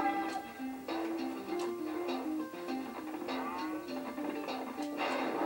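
Cows in the Spyro 2 video game moo repeatedly, several drawn-out lowing calls overlapping one after another over a quiet game background, fairly close and clear.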